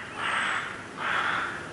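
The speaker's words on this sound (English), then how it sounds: "Yes, that's corvids, jackdaws, crows in the background." Jackdaws and crows call outdoors, two drawn-out harsh caws heard at moderate distance over a steady breezy background hiss.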